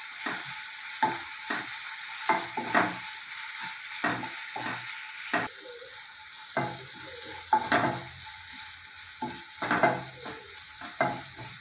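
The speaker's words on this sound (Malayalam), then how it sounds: "ചേർത്ത് കൊടുക്കുമ്പോൾ പെട്ടെന്ന് സബോള വഴന്ന് നമുക്ക് കിട്ടും." Sliced onion sautés with salt in a hot pan, a continuous sizzle broken by repeated scraping stirs of a spoon at an uneven rhythm, close and fairly loud, with no talking.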